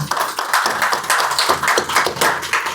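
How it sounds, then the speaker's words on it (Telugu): Audience at a devotional talk clapping together in a steady, dense burst of hand claps that runs for a few seconds without speech. "వెరీ గుడ్ ప్రభు, క్లాప్స్ కొట్టండి."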